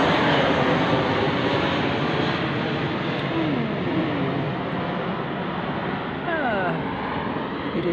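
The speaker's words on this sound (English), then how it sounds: "I can't believe there's another plane." An airplane flying overhead makes a loud, steady roar that fills the whole stretch outdoors with little change, swelling slightly toward the end.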